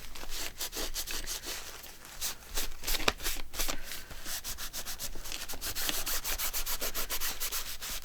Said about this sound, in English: I'm just going to rub that down good.